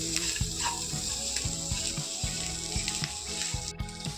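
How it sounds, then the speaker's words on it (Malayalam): Clam meat being stir-roasted in a pan with coconut pieces, Kerala style, giving a steady close sizzle broken by repeated scraping strokes of a spoon against the pan. "ഇതിലേക്ക് കക്കിറച്ചി ഇട്ട് കൊടുക്കാൻ പോകും. നന്നായിട്ട് ഇളക്കി യോജിപ്പിക്കും."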